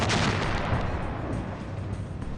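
Shipboard cannons aboard the Half Moon fire at attacking natives, producing heavy, rumbling booms that blend into continuous loud battle noise, with no speech.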